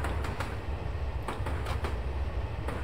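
A Ffestiniog Railway gravity train rolls downhill without an engine, steel wheels rumbling loudly and close with sharp rhythmic clacks over rail joints.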